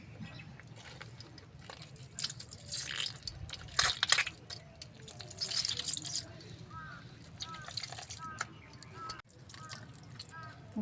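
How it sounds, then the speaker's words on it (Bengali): Jackfruit pulp is pressed by hand through a net to squeeze out its juice, giving soft, close, wet squishes and dripping in irregular bursts while someone talks. "এই নেটের উপরে কাঁঠাল নিয়ে আমি রসগুলো বের করে নেব"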